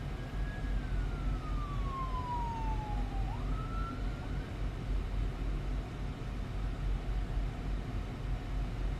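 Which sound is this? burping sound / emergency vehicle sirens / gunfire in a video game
emergency vehicle sirens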